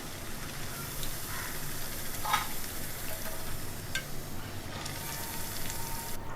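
Black urad dal vadas deep frying in hot oil give off a steady, dense sizzle that carries evenly throughout, close and fairly loud, with a few brief brighter crackles and no talking.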